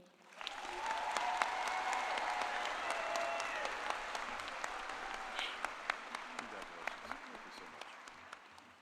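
Audience applause fills a university graduate commencement ceremony, a steady dense clapping that swells in and holds throughout, with sharper individual claps standing out near the end.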